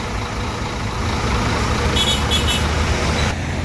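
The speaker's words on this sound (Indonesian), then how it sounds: "Oke, bus warna hitam, kuning akan melanjutkan perjalanan menuju ke Pekanbaru Medan." A black and yellow Scania bus of the Sempati Star line drives along the road, a steady loud engine and road rumble close by, with a short horn-like toot in the middle.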